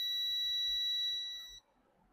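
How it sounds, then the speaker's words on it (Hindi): A digital multimeter's continuity buzzer gives one steady, piercing tone for about a second and a half while testing a 2.5-ohm LVR component, then cuts off into quiet. "जो कि ये बीप दे रहा है"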